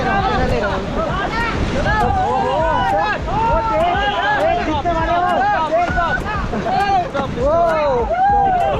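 A rafting boat takes on river rapids on the Ganga in Rishikesh, with rushing water and wind roaring throughout while several voices shout and cheer over it.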